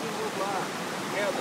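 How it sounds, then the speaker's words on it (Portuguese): Steady broadband rush of the Cachoeira do Quilombo waterfall in Serra da Canastra, a constant close roar filling the whole clip with faint voices over it. "Estamos aqui na Serra da Canastra, na Cachoeira do Quilombo."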